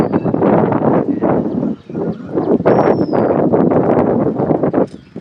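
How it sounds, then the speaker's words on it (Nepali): Gusty wind buffets the microphone in loud, uneven rumbling waves by a lake, with a faint bird call near the middle. "मजाको हावा आइरहेछ"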